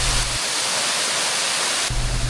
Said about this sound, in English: Lost Creek Falls drops directly into a large sinkhole bowl with no surface